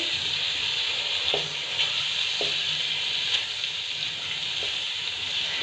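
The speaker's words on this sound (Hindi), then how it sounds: "इसको मैं इसके साथ साथ ही फ्राई कर लेती हूँ।" Vegetables for a vegetable biryani fry in a pan with a constant close sizzle, and a few light stirring taps come through at intervals, with no talking.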